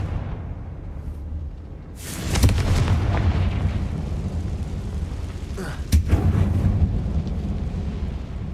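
Confringo blasting spell exploding in the video game Hogwarts Legacy, a sudden loud boom with rumbling aftermath, followed by a second sharp blast a few seconds later.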